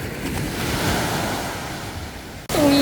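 Strong sea waves surge and wash onto a beach with clear water, a loud continuous roar of surf with wind noise, ending in a brief dropout followed by a higher tonal sound.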